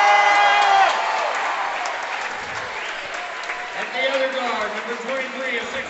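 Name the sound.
crowd applause at basketball tournament player introductions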